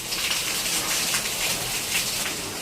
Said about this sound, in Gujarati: જોઈ લે વરસાદ ફૂલ અંધારું તો ક્યાંનું થયું હતું પણ ધીમી ધીમી ધાર આવતો હતો પવને ભેગો હોય બધું